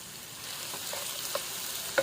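Ginger garlic paste frying in a pan for keema aloo curry gives a steady, fairly quiet sizzle with a couple of small clinks, and no one speaks.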